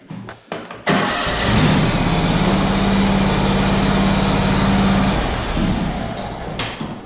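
A John Deere X500 riding mower engine cranks with a few short clicks, catches and roars to life, running at a loud steady pitch for several seconds before dropping back, followed by clunks.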